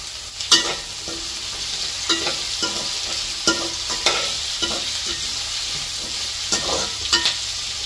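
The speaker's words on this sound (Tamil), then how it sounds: "சின்ன வெங்காயம் நல்ல வடிவாக கோல்டன் ப்ரௌனாக வதங்கி வந்துட்டு இருக்கிறது" Shallots and curry leaves sauté in hot oil until golden brown, a steady sizzle with regular, sharp scrapes of a spoon stirring the pan close by.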